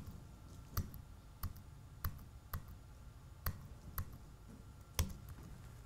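Computer keyboard keys are pressed one at a time to pick photos in Lightroom, about nine sharp clicks at uneven intervals, close and crisp over quiet room noise.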